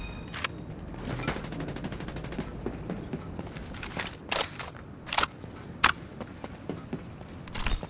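Automatic and single gunshots ring out in the battle royale video game Farlight 84, with rapid bursts and sharp separate shots spread over several seconds at moderate level.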